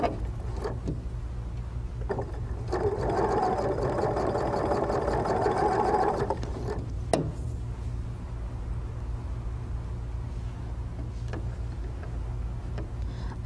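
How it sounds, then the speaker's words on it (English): A sewing machine chain-sews churn dash quilt units, its motor whirring in a steady burst for a few seconds, followed by quieter ticks and a single sharp click. "We'll chain sew all the pieces together."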